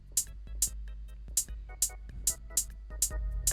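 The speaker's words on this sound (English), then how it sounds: "which are basically just basic closed hat from my pack" A basic closed hi-hat sample from a drum pack in FL Studio ticks in an even, crisp pattern of about eight bright hits over a steady low bass bed, with no talking.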